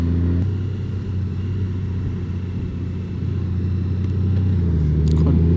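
A Honda Gold Wing touring motorcycle with DCT transmission rolling along at low speed, its engine a steady, close low rumble with wind noise and a slight rise in revs near the end.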